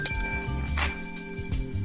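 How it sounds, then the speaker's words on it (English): A bell-like ringing sound effect plays on a radio show, a few bright metallic tones with sustained ringing overtones over a low rhythmic bed. "Ring the bell for my queens."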